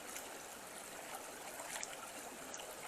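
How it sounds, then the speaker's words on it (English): Rainwater runoff pours steadily through a drainage channel out back after three days of rain, a continuous broadband rushing of flowing water with no pauses, close and moderately loud. "this is a lot of water coming down through here."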